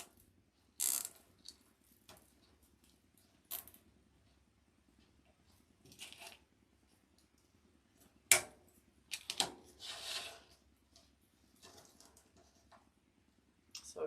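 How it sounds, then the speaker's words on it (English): A plastic zip tie is fastened around deco mesh on a 21-inch daisy petal flower wreath, giving several faint, short ratcheting zips separated by quiet pauses. "you're just going to attach that with a zip tie."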